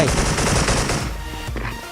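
M4A1 rifle gunfire in the mobile shooter game Special Force Mobile: a loud, dense burst of rapid automatic shots that holds for about a second, then trails off into a few scattered, quieter reports.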